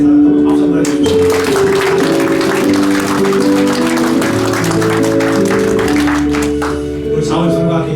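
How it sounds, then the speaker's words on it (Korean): A church congregation at a Sunday worship service claps together, a broad burst of applause over sustained keyboard chords, fading slightly toward the end. "이 한 해 동안 살아온 나 자신에게 잘 살았다고 박수 한번 해주십시오"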